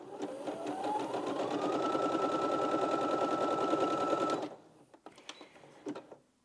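A Brother Innov-is 15 sewing machine stitches with a fast, even mechanical whir that rises in pitch as it speeds up, runs steadily for about four seconds, then stops, followed by a few light clicks and handling noises.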